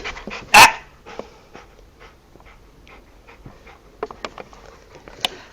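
A dog gives one sharp, loud bark, then pants and makes soft scattered sounds, fairly quiet and close.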